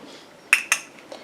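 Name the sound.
stirring urea into aqueous phase, utensil clinking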